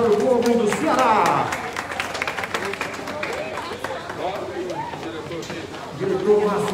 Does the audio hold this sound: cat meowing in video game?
no